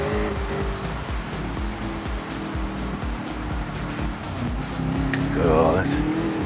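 Race cars at soggy Suzuka drift round the first curve, a steady engine roar with tyre noise and a rising whine near the end, heard under a commentator's talk.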